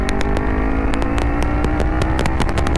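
Kawasaki Ninja 300 motorcycle engine droning steadily while riding, loud and close with a continuous buzzing hum and scattered clicks and knocks.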